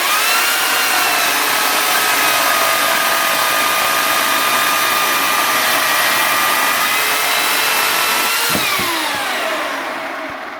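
A Titan electric chainsaw cuts through logs with a steady, loud, close motor whine under load for most of the stretch, then its pitch drops as it winds down near the end.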